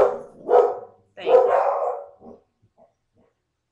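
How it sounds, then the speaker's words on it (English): Several dogs set off by a car horn outside bark in a few loud, close yapping bursts, then trail off into faint yips as things quiet down. "the dogs just heard somebody blow their horn outside, so now they're going off"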